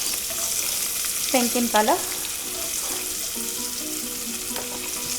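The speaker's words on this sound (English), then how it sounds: "I'm going to add that and saute the onion till it becomes nice" Finely chopped onion, one large bulb, sautéing in a pan for a Maharashtrian dish, with a steady soft sizzle throughout and a brief spoken voice partway through.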